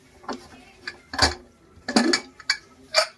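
Metal clinks and clatters as a cooled pressure cooker is opened after four whistles, in a home kitchen while pav bhaji is being prepared, a few sharp separate knocks with short quiet gaps between them.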